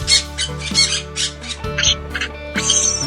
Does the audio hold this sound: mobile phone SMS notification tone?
no